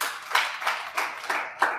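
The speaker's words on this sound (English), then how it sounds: "clap for yourself." Scattered handclaps from a small audience at a network marketing live session, about five loose bursts spaced roughly a third of a second apart, thin and moderately close with no voices over them.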